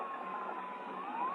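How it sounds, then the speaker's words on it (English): A siren, probably a police car's, wails steadily in the distance with a slowly sliding pitch, carried faintly across a quiet stretch. "Siren. Somebody else must have seen it. I'll bet it's the police."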